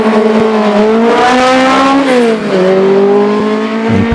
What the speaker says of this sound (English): Now it's Alan Goodwin with the unique Alden Ford AL3